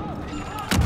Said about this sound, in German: Bombe.